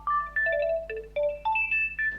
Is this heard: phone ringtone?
yes